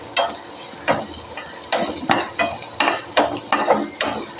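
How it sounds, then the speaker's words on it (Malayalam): Small onions with carrot and green chilli stirred and sautéing in a hot pan, giving repeated short scraping, sizzling strokes at a steady rhythm, close and clear with no talk. "പിന്നെ കൊച്ചുള്ളി ചെറുതായിട്ടൊന്ന് വഴറ്റിയിട്ട് ക്യാരറ്റും പച്ചമുളകും ഇട്ട് കൊടുക്കാം."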